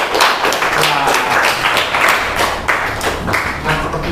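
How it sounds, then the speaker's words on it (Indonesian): Classroom applause for student groups after a math lesson exercise, a short burst of children clapping nearby, somewhat uneven and loud, with faint background voices. "Tepuk tangan untuk kelompok biru dan merah."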